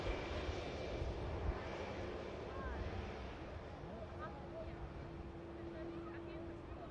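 An airliner's engines rumble at Manchester Airport, a broad steady roar heard from a distance with some wind and faint chatter mixed in.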